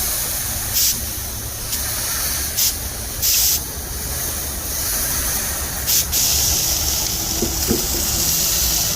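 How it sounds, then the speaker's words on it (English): Quick spritzes of liquid hiss onto pulled pork in a smoker, short sharp bursts repeating several times over a steady background rush, close and fairly loud. "Go ahead and give it a quick spritz."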